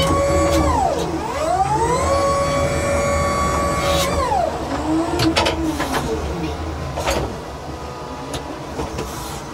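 An electric forklift drives and maneuvers, its motor giving a loud whine that rises and falls in pitch as it speeds up and slows, with a few clunks and rattles over a steady hum and no talking.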